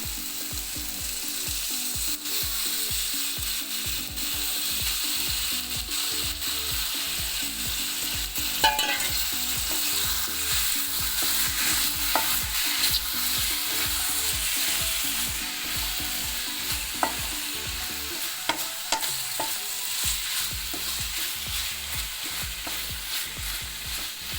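Cleaned squid tossed into a hot pan for a restaurant-style squid roast, frying with a steady loud sizzle while a spoon scrapes and stirs in repeated rhythmic strokes, with a few sharper clinks along the way.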